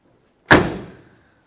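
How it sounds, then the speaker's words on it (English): The passenger side door of a 1967 Pontiac GTO shuts with a single solid close-up thud that rings and decays over half a second, alone after brief silence. "Passenger side door."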